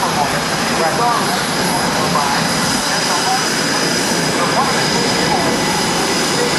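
Super Hornet fighter jet roaring past at the 2008 NAS Oceana airshow, a loud, steady broadband engine roar filling the whole stretch with no letup.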